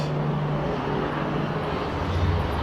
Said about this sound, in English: this traffic, it never goes completely silent. It is this constant ongoing rumbling